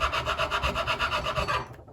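A metal file rasps back and forth over paint in a wooden guitar neck pocket, about a dozen quick rhythmic strokes close up before it stops abruptly.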